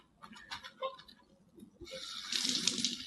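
Tap water runs into a measuring cup for a half-cup of water for kids' homemade marshmallows, starting after some faint handling noises and building into a steady, close, hissing stream that fills the last second.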